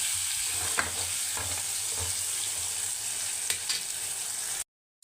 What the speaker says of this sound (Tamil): கொஞ்சமாக உப்பு சேர்த்து நல்லா வதக்கணும். அப்போ தான் தக்காளி நல்லா வெந்து வரும்.